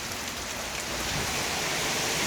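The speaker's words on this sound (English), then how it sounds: "the wind's just blowing the rain around on the roof" Heavy rain driven by wind during Hurricane Dorian in Halifax, a dense, steady hiss of downpour pelting a roof and streets, loud and constant with no talking.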